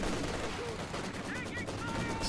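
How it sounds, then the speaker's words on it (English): An MG34 machine gun fires in Company of Heroes 2, rapid bursts of gunfire mixed with other battle noise in a dense, continuous combat soundscape. "some more MG34 playing here"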